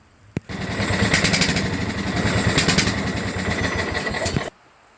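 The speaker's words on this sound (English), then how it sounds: "I'm gonna drop this down, start up the engine, and see if it drives." A John Deere LA105 lawn tractor engine is cranked over, a loud, steady churning drone right up close that runs about four seconds and cuts off abruptly, with no talking.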